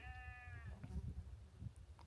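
Sheep bleating on an open hillside at Beacon Fell Country Park on an evening in August, with one fairly close, drawn-out bleat at the start followed by faint rustling and outdoor background.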